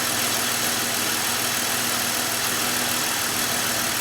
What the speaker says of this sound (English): let's start the car and see if we have resolved the alternator noise issues.